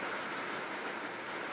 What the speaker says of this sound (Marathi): एवढा पाऊस चालू आहे